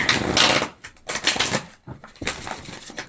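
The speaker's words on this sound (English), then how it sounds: "Let's give these a shuffle." Tarot cards being shuffled by hand during a weekly astrology reading, giving a series of crisp riffling and flapping bursts with short pauses between them, close up and alone with no talk.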